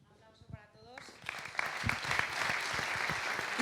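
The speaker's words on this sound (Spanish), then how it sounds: "Un aplauso para todos." Audience at a startup business event breaking into applause after a brief spoken line, the clapping swelling quickly and holding as a dense, loud patter to the end.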